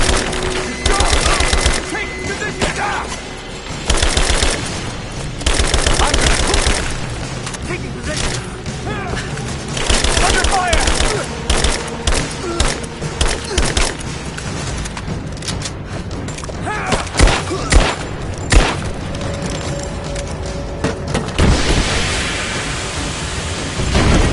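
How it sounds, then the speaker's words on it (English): Dense, continuous gunfire and booming explosions fill a combat firefight in the Lara Croft Tomb Raider video game, loud and sustained throughout, with shouted voices mixed in. "Open fire! Cover me!"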